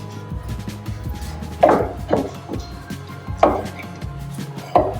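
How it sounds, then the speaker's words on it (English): A knife cuts through a reverse-seared ribeye steak along the bone on a board. Four sharp chopping thuds land at irregular intervals, close and clear, over a low steady background hum. "Let's slice this up and see how we did."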